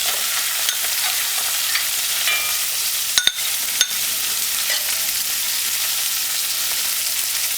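Okra and saltfish sizzling in a hot pan with seasoning, a steady bright frying hiss broken by a few sharp scrapes and clicks from a utensil stirring, close and loud with no talk.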